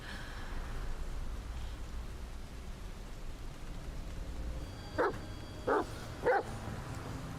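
A dog in the video game Mask of the Medium barks three times in a row, short sharp yaps at a middle distance over a low ambient rumble, with no talking.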